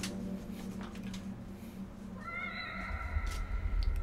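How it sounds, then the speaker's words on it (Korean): A cat meows in The Evil Within horror game, a few drawn-out mewing cries rising over low ambient rumble and dark background tones, moderately close. "고양이 소리가 들리는군."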